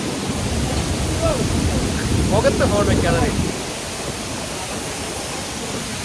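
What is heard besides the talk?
roaring waterfall at Five Falls near Courtallam, wind and spray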